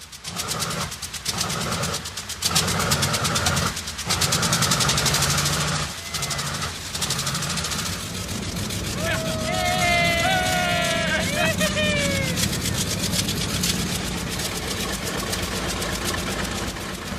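A B-29 Superfortress bomber engine runs in a ground test with a steady, loud drone throughout, while people talk over it and a whining, rising tone sweeps briefly partway through.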